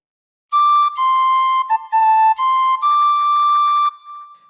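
Tin whistle plays phrases of Auld Lang Syne alone, a clear, bright melody of sustained and stepping notes lasting about three and a half seconds after a short silence.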